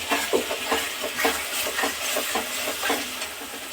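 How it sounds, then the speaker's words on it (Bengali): Thick spice paste sizzles and spits in hot oil while a utensil scrapes and stirs in a steady rhythm, close up. "আর একটু ভাজা ভাজা করবো মশলাটাকে"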